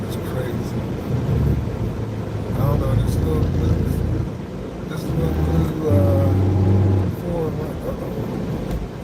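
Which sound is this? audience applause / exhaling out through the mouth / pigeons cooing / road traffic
road traffic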